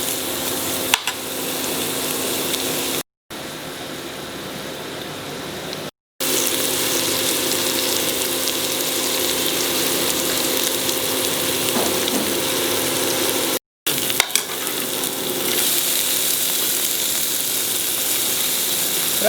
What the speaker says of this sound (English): Fry the tomatoes in this till it becomes soft.